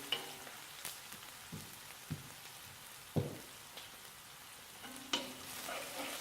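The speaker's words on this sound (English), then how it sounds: "We're going to fry for a few seconds here." Pork fried rice frying in a pan, with quiet intermittent sizzling, soft stirring scrapes and occasional utensil clinks at close range, no voices.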